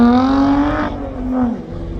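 An Audi all-wheel-drive race car engine pulls away on a damp track, its loud, close drone climbing steadily in pitch, then breaking off and picking up again with a second rise, with no voices.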